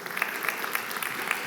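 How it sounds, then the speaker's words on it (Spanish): Applause for volunteers at a Spanish-language church gathering, a soft steady patter of many hands clapping with a few sharper claps, moderately faint and without talk. "Vamos a darles un fuerte aplauso."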